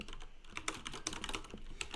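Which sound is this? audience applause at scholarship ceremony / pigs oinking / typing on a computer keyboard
typing on a computer keyboard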